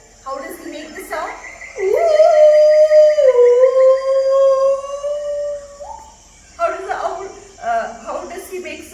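A human voice imitating a wolf's howl, one long drawn-out wavering tone lasting about four seconds, loud and close, framed by short bits of speech and chuckling before and after.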